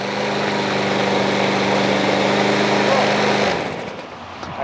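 A backpack leaf blower's small engine runs at high revs in a loud, steady buzzing drone for about three and a half seconds, then drops away to a faint idle.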